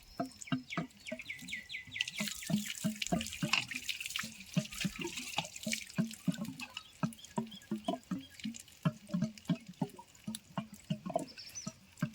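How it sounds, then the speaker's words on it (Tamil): Water drains from a drip irrigation tank, a steady run of splashy trickles and irregular drips close by, with a faint bird chirping in the background. "தண்ணி வடிஞ்சிடும்"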